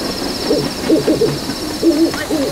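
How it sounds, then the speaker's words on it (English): Low snowy owl hoots played from loudspeakers repeat in short phrases over a steady high electronic whine, sounding amplified and fairly close. "unexpected sounds like a howling snowy owl or running trains meet the ear."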